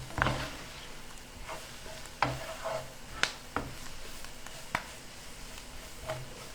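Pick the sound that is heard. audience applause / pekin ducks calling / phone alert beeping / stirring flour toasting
stirring flour toasting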